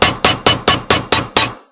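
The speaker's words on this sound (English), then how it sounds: "You give that a hammer, make it look good." Seven sharp metal hammer strikes land at a steady, quick rhythm on a wire spiral being flattened into a clasp, each loud and close with a brief ringing decay.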